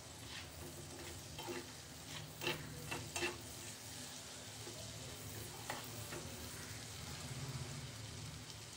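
Cashew nuts fry in hot oil in a pan, a soft steady sizzle with scattered crackles and light stirring scrapes, fairly quiet and without talk.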